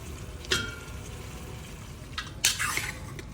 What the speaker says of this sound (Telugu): మనం ముక్కలుగా కట్ చేసిన చికెన్ని వేసుకొని కలపండి హై ఫ్లేమ్ మీద